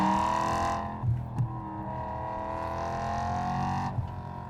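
BMW E92 M3 engine held in second gear through tight turns, a steady droning hum with rising and falling pitch, fairly close and continuous, with a couple of brief bumps.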